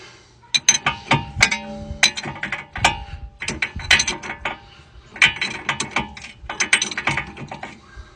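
A ratchet wrench tightens the outer tie rod on a 2012 Ford Explorer, giving bursts of rapid metallic clicking in quick runs with short pauses between, close and clear with no talking.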